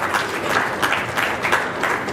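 An audience at an official foundation launch event breaks into applause, a sustained mass of clapping with slight pulses in intensity, steady throughout without talk.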